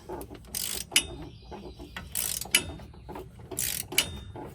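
A ratchet loosens the nut on a completely worn-out sway bar end link. Three separate bursts of close mechanical clicking are spaced about a second and a half apart, with quiet gaps between them.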